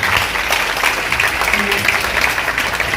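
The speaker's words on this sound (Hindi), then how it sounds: "ताली बजाइए सब अपने।" An audience claps steadily at a talk by a police officer, dense, even applause filling the room for the whole stretch without a break.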